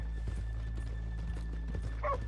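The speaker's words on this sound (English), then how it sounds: "Let's leave the horses here off the main drag." Horses in a video game clip-clop with a steady patter of hooves under a low ambient hum, ending with a short whinny.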